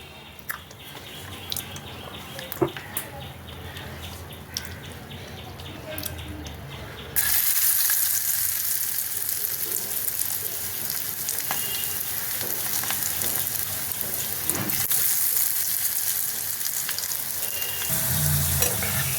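Okra fried with mint in a pan, a steady sizzle and crackle of hot oil that grows louder partway through, with scattered stirring clinks and brief voice murmurs in the background.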